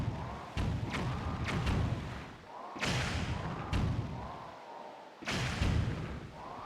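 Cannons exploding in Zelda: The Wind Waker HD, several heavy booming blasts landing one after another over a dense, loud game soundscape.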